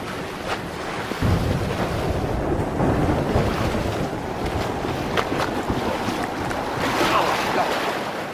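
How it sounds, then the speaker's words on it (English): Squall wind and waves at sea buffet a small boat at anchor near shore, a loud continuous rush of gusting wind and surf with microphone wind noise throughout. "There's a big squall coming."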